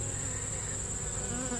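Honey bees buzz on a brood frame during a post-harvest hive inspection, a steady droning hum that continues without pause throughout.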